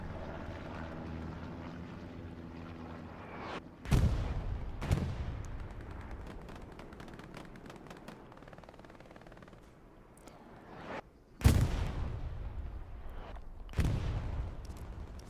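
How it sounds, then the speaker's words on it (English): An aircraft bombing run in the WWII video game Hell Let Loose drones low, then heavy booming explosions strike in four separate bursts, two of them close together, with crackling debris trailing after each blast. "We have a bombing run coming over here to the right side"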